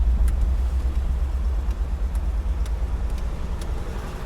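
A 1959 Cadillac Eldorado Biarritz being driven on a warm day, heard as a steady low engine and road rumble with faint ticks and clicks above it, no voices.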